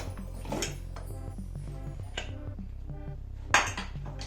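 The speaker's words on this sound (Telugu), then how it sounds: "ఇప్పుడు మనం కుక్కర్ ప్రెషర్ మొత్తం పోయిందండి ఓపెన్ చేసుకున్నాము" Metal clinks and light clatter as a pressure cooker is opened after its pressure has fully released, with a few soft knocks and a sharper clank near the end, fairly quiet and close.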